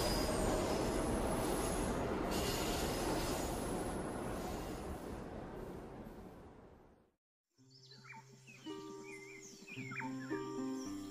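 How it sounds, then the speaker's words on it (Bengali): A train running on rails, heard as a loud, dense rumble and clatter with wheel squeal that fades out, then after a brief silence gives way to quieter rail noise with birds calling. "পরদিন ট্রেন নিউ জলপাইগুড়ি স্টেশনে থামল।"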